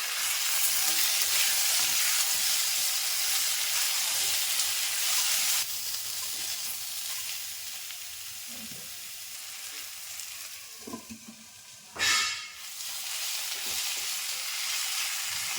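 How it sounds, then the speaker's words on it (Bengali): Potatoes and pointed gourd fry together in a hot oiled pan with a steady, dense sizzle, broken near the end by a short clatter of stirring and a brief louder hiss. "এখন আলু আর পটল একসাথে ভেজে নেব।"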